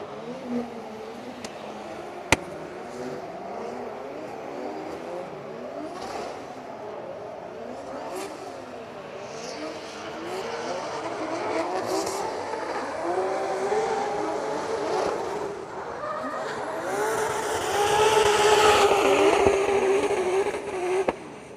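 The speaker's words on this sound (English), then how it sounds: "I still kind of like the low rumble of that LS in that car" A drift car with an LS V8 engine rumbles and revs during practice at an event in Finland, its low growl building and swelling louder toward the end as it approaches.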